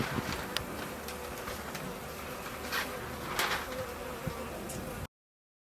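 Honey bees buzzing around beehive frames, a constant close drone of many wings with brief louder passes as individual bees fly near.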